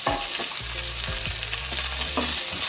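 Drumstick leaves frying for an egg curry, a steady loud sizzle running throughout with a low hum beneath and occasional stirring clinks.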